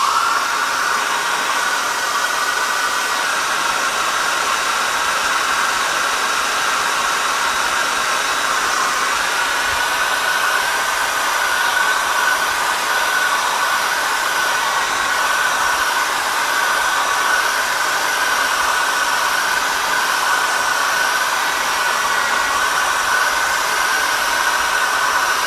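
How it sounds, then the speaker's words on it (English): A hair dryer drying a watercolor painting blows steadily and loudly for the whole stretch, a constant whooshing hum with a whiny tone, no pauses and no voices. "Give this a little shot of hair dryer for a minute. So forgive me for the noise."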